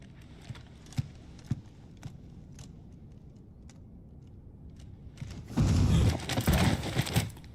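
Horse hooves clip-clopping in Final Fantasy 16, a few sparse steps early on, then a louder, denser burst of hoof clatter and movement near the end, with no voices.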